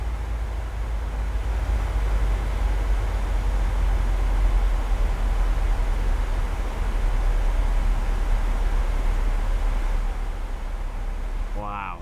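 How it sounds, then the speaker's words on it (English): A PMDG 737-700 airliner's engines spool down in Microsoft Flight Simulator 2020, a steady deep bassy rumble and broadband wind-like roar holding loud and constant throughout, easing only slightly near the end. "That bassy engine wind back sound."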